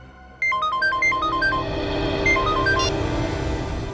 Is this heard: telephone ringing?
yes